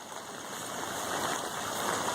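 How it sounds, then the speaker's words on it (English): Floodwater runs and pools along a fence row behind a house, a continuous rushing, gurgling flow heard up close and steady throughout. "It's pooling out and flooding this fence row right here."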